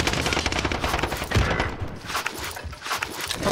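Video game gunfire from shooters on a building's second floor rattles in dense, rapid automatic bursts, loud and close, crackling almost without pause.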